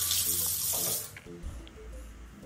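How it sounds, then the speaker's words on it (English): A bathroom tap in a Casablanca apartment runs with a bright hissing gush for about a second, then the flow changes to a lower, softer splashing stream into the basin. "you know I had to check if the water gets hot"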